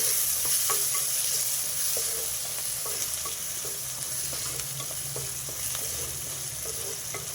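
Onions fry in a pan for a potato curry, giving a continuous hiss of sizzling oil. A spoon scrapes and stirs at a fairly regular pace, up close, with no voices.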